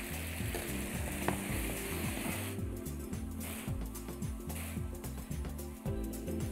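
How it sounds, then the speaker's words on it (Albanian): Food sizzles and fries steadily in a pan with pesto, a continuous close crackling hiss with faint stirring and scraping throughout, no one speaking. "E hedhim në të tigani ku kemi edhe peston."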